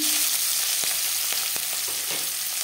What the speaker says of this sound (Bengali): দশ 15 সেকেন্ড জিরে ভেজে নেওয়ার পর দিয়ে দেব থেঁতো করে রাখা রসুন